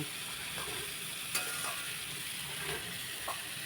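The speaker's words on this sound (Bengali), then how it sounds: "এবার আর একটু নেড়ে ছেড়ে নেব" Vegetables frying in a pan for a vegetarian Bengali dish, likely bitter gourd, while a spoon stirs them: a faint, steady sizzle with a few soft scraping clicks, no voices.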